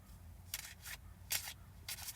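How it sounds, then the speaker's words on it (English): Tarot cards being shuffled in short, crisp bursts, four quick riffles spaced unevenly, close but fairly quiet, with no voices. "I'm going to stop shuffling."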